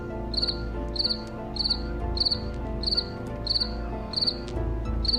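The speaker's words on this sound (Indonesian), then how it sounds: "Ada suara jangkrik." Crickets chirp in regular, evenly spaced bursts of rapid high trills, loud and close, repeating about every half second over a low musical background.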